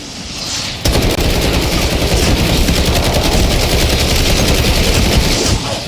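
Sustained automatic gunfire in Black Ops 6 Zombies, a loud unbroken machine-gun stream that kicks in after a brief lead-in and runs for about five seconds.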